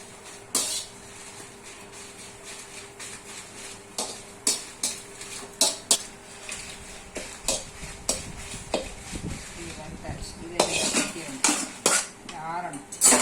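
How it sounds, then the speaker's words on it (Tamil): Red chillies dry-roast in a pan for homemade idli podi while a metal spoon stirs them. Sharp scrapes and clinks come at an irregular, unhurried rhythm, close and fairly loud, with only a faint dry rustle between strokes. "நல்ல வத்தல் நல்லா வறுபடணும்."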